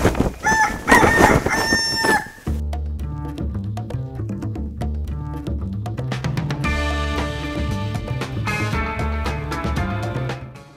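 Naked neck chickens crow loudly in the opening seconds, with clucking mixed in. The crowing gives way to steady background music that runs to the end, with fainter fowl calls beneath it.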